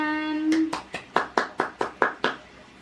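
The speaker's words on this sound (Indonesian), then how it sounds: "Beri tepuk tangan" Applause in a school classroom: after a brief spoken word, a small group claps in a slow, regular series of about eight sharp, distinct claps, moderately loud and close.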